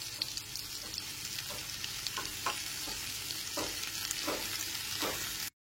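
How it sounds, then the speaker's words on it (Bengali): Chopped onion stalks stir-fried with potato and cauliflower in a pan over a medium gas flame, a steady close sizzle broken by repeated scraping stirs of a spatula, with no talking. "সমস্ত কেটে রাখা পেঁয়াজকলিগুলো আলু আর ফুলকপির সাথে খুব ভালো মতো মিশিয়ে নিচ্ছি।"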